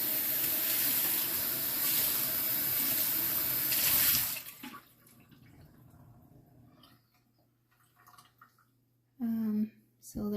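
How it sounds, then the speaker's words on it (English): A cup is rinsed under a running kitchen tap, a steady loud gush of water for about four seconds, then the flow stops, leaving faint drips and handling noises before a person speaks briefly. "while I rinse the cup."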